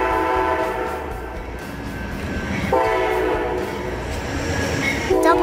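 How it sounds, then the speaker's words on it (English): A double-decker passenger train rolls past with a steady rumble and rattle of wagons, while its horn sounds in sustained tonal blasts that stop and restart, loud and close throughout. "Double-decker train."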